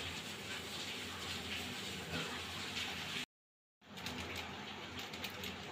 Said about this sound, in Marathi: पाण्याला उकळी आलेली आहे.